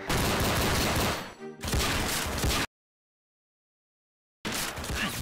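Dense automatic gunfire from the Roblox game Arsenal, loud bursts of continuous shooting broken by a brief pause and a longer silence before the firing resumes.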